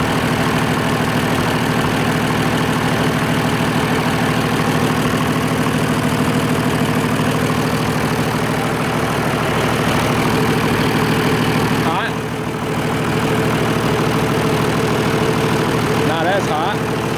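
An Oliver 1550 diesel tractor engine idles steadily and close by, a continuous low rumble with a faint knocking rhythm that runs unbroken throughout.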